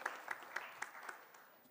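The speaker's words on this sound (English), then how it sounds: "give a big round of applause to ABB, who are our startup award sponsor" Applause at a 2019 IoT industry awards ceremony, honoring the startup award sponsor, comes through as a fairly quiet, distant patter of claps with a few sharper peaks, fading away over under two seconds.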